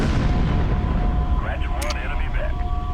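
Artillery fires on mechs in the MechCommander 2 strategy game, a low rumbling barrage of booms under a steady mechanical hum, with a brief burst of sharper game effects and a voice speaking over it.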